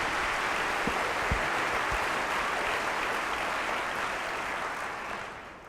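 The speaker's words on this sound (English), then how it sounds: "Let's give Laura a round of applause." Audience applause at a school district State of the District event, a dense steady burst of many hands clapping that tapers off over several seconds.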